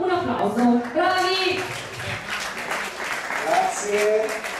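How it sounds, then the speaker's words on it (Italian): Audience applause at a live concert in Bar Magenta, a burst of clapping mixed with voices and some tonal sound, rising and fading over a few seconds in a small room. "Nel frattempo un applauso, bravi!"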